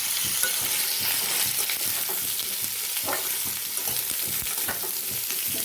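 Papaya and potato pieces sizzle in hot oil with cumin and dried red chilli, a steady close frying hiss broken by irregular stirring scrapes and clatters, no voices.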